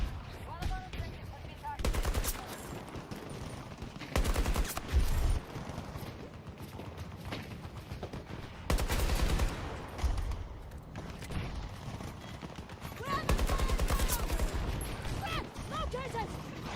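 Repeated bursts of F2000 rifle fire in Battlefield 2042, loud rapid automatic volleys separated by gaps, with other battlefield shots and ambient noise between them.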